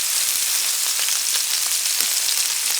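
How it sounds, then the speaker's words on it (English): Bison NY strip loin sears in hot oil with a steady, loud sizzle and fine crackling pops that run without a break, close up, with no voices. "This sear that you hear is very important."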